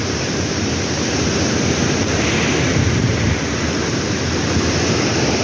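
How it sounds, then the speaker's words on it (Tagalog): Loud, steady broadband roar of fast-moving flood water, continuous and close, with heavy rumbling low end and no voices. "dahil sa sobrang laki guys ng baha"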